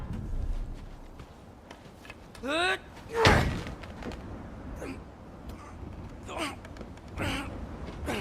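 A frozen door is forced open in God of War Ragnarok, with a loud thud and strain around the three-second mark, a grunt and effortful vocal sounds before it, and game ambience and scattered thumps afterward.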